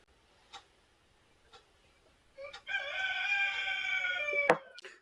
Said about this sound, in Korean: 또 닭이 소리 지르네요.